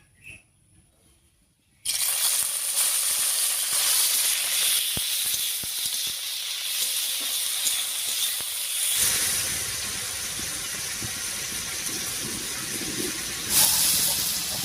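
Peeled shrimp with tails removed drop onto a hot spice tempering for a Bengali pumpkin-greens dish, and after a brief quiet moment a loud, close, continuous hiss and sizzle erupts and keeps going, swelling and shifting midway.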